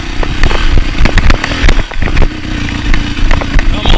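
A dirt bike engine climbing a mountain trail in Alaska, revving loud and close with a rough, rattling roar, sputters and crackles throughout.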